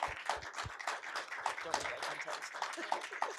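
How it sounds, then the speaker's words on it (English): Audience applause for book editors at a campus reading and conversation event, a fairly faint, thin smattering of clapping from a modest crowd with some talking mixed in underneath. "Can we give the editors a nice round of applause?"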